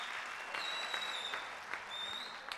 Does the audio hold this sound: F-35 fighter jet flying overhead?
no